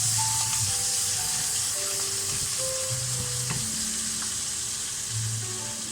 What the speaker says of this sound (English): Now I'm going to give it some frying.